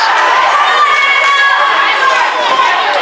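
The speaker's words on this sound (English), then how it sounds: "And the crowd's lighting up like a firecracker on the 4th of July right now" A school volleyball crowd erupts at match point in a gym tournament, a loud, continuous wash of cheering, shouting and excited voices with children's yells rising through it.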